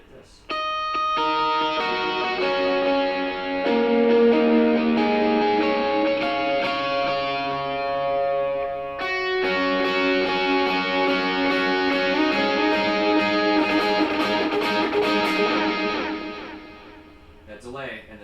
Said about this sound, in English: That delay and the mod comes together with the distortion.